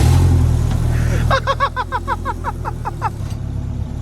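A modified Honda car's engine is started remotely from a short distance away. It turns over with a burst of rapid, rhythmic cranking pulses before catching, heard up close over a steady background rumble.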